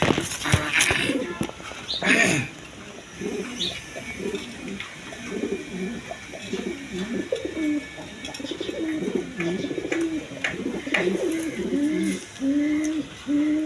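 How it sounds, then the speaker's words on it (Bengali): A pair of tulip pigeons coo in repeated soft, throaty rolling calls, close by, over a busy background of other birds and intermittent human talk. "এখানে এক পেয়ার টিউলিপ কবুতর আছে"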